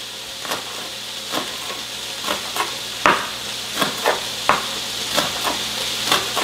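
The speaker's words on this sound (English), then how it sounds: "Now let's get this stirred up a little bit, get that egg mixed up." Eggs for chicken pad thai are stirred and tossed in a hot pan, with a steady sizzle under repeated sharp scraping and clanking strokes of a utensil at close range, roughly twice a second.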